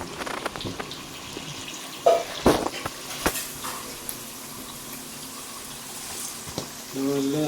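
Kerala-style jackfruit chips fry in hot oil, giving a continuous bubbling sizzle with occasional clinks and scrapes of stirring, close and moderately loud, with a brief voice near the end.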